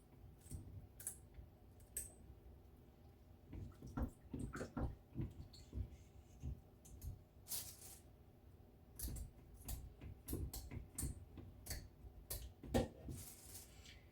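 Sharp, irregular snips of scissors cutting the spiky fins of a sea bass, close and crisp, scattered over quiet background with occasional water sounds.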